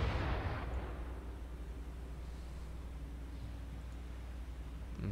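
Naval guns firing in the War on the Sea video game, a heavy booming blast at the start that decays into a long low rumble and hiss, with no talking over it.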